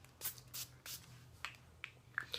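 Makeup setting spray misted onto a face in several short, breathy hisses, a few quick bursts spaced irregularly with soft handling noises between, close and fairly quiet over a low background hum.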